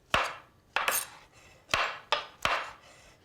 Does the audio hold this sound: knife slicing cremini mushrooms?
yes